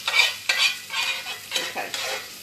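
Popped mustard and cumin seeds go into frying onion for tarka daal, heard as a run of close, rhythmic stirring scrapes about every half second over a soft sizzle.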